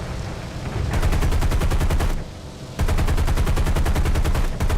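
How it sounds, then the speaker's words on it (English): Defensive gunners on a British bomber in War Thunder fire loud, fast machine-gun bursts: a long rattling stream, a brief pause, then a second sustained burst. "So my gunners are actually getting some hits here"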